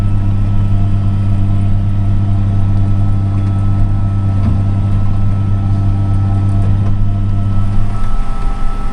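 An Arcusin bale bundler runs continuously, its hydraulic drive giving a loud, steady low mechanical hum and drone for the whole stretch, with no break or change in rhythm.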